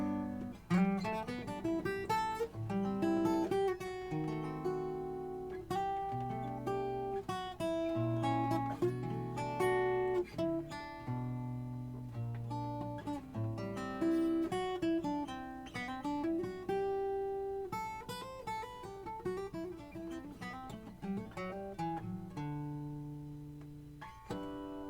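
A song played from tablature as a fairly quiet, continuous instrumental: plucked melody notes over shifting chords, with a relaxed, flowing rhythm. No one speaks or sings over it.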